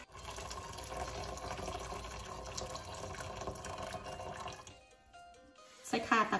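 Hot water poured into a cooking pot while making a Thai sour fish soup with sea bass, a steady gushing pour that runs for several seconds, stops, then gives way to brief louder clatter at the end.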